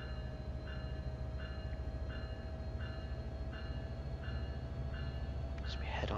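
Train Sim World 4 train on the Antelope Valley Line, a steady low rumble with a repeating pulsed tone, a constant drone throughout and a brief louder burst near the end.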